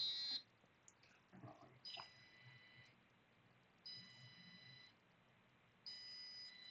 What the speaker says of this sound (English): That's basically just like a simple alarm sound